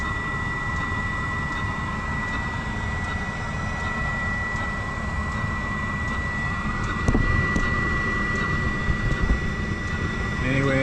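A rebuilt Webasto diesel heater runs continuously, burning off oil after the fuel system was primed from an outboard tank, giving a steady, loud roaring drone with a brief louder surge near the end.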